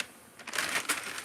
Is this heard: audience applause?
no